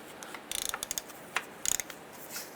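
Ratchet wrench loosening 15 mm starter bolts on a 2002-2007 Jeep Liberty: several bursts of quick, close ratcheting clicks with short pauses between them, and no talking.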